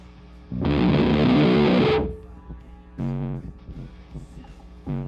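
An electric guitar through an amp-sim plugin fuzz effect blasts a thick, buzzing fuzz-distorted chord, then cuts off, followed by a couple of shorter fuzzy strums with hum between them.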